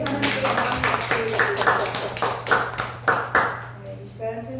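A church congregation claps together in a steady, rhythmic beat, loud and close, with a few quicker claps fading out at the end.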